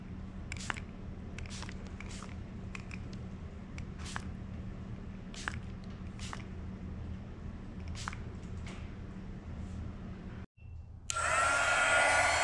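A heat gun dries freshly applied burnt umber paint on a Woodland Scenics model railway layout. Soft handling clicks and rustles come first, then the gun switches on with a loud, steady blowing roar near the end, and no one speaks.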